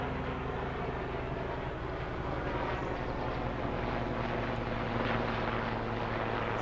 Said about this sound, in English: I don't know if you can hear that helicopter,